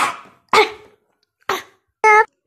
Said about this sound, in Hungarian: csak köhögök, taknyos vagyok